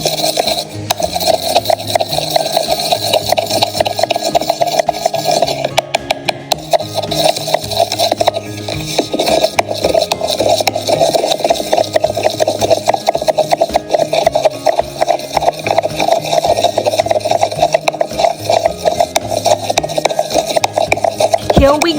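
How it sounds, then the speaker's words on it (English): A spatula scrapes and stirs slime inside a cup, a loud, continuous rasping and rubbing that churns on steadily throughout with a gritty, repetitive texture. "mix it again using the spatula thoroughly until the cup gets dry"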